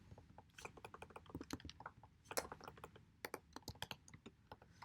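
Fingers type a pip install command on a computer keyboard, a quiet, close run of quick irregular key clicks and taps with short bursts and brief pauses, with no talking.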